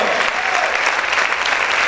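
A church congregation claps loudly and steadily during a worship service, a dense wash of many hands with no break, with a faint voice in the background.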